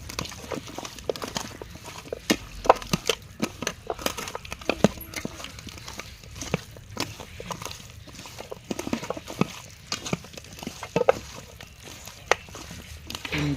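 Chicken pieces being mixed by hand with garam masala, salt, tomato paste, ginger-garlic paste and onion paste for chicken kondattam, giving repeated wet squelches and soft slaps in an irregular rhythm, close up and moderately loud.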